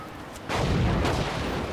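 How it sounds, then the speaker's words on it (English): Missiles firing and blasting in the open-world action game Just Cause 3: a sudden, loud, heavy explosion erupts and rolls on as a sustained, rumbling roar after a brief quieter moment. "Wow, missiles now. There's missiles."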